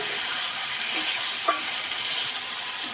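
Water splashes into a pan of frying cauliflower curry made with green tomatoes, giving a steady close sizzle with a couple of brief louder spits.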